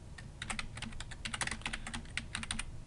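Rapid clicking keystrokes on a computer keyboard, typed in a quick irregular patter while entering a chart axis title in Excel, faint and close with no talking.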